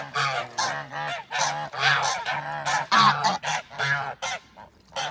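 A flock of geese honks and chatters close up, loud overlapping calls in quick irregular bursts with brief pauses between.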